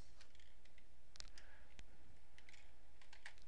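Computer keyboard keys being typed in scattered clicks and short taps, quiet and close, with a steady background hiss and no talking.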